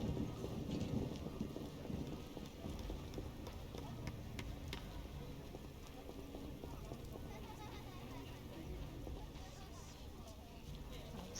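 Steady rain falling in The Witcher fantasy game, a constant soft hiss with faint rumbles underneath, continuing unbroken throughout at low level.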